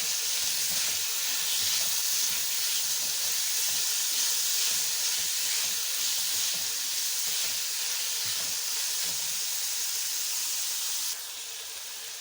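Chicken pieces cooking in a kadhai give a steady, dense sizzle that runs continuously for about eleven seconds, then drops slightly quieter near the end; no one speaks.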